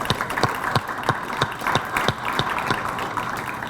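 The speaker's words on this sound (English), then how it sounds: "One more round of applause for all the athletes." An audience at an all-city athletics awards ceremony claps steadily, with a thin, rhythmic patter of a modest crowd's hands rather than a roaring ovation and no talk over it.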